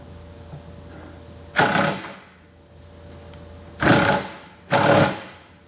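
A power tool tightens bolts on a cheap trail Jeep in three short, loud, close bursts, one longer buzz followed by two quick ones, with quiet ambient hum between them.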